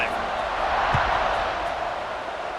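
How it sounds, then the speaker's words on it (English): A stadium crowd cheers before a kickoff in EA Sports College Football 26, a steady loud roar of many voices with a commentator talking over it. "this crowd is feeling themselves after that last drive"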